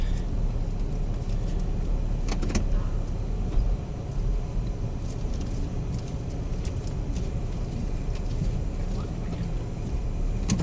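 A vehicle with steering column problems drives across open prairie, giving a steady, loud engine and road rumble with faint rattles throughout and no break.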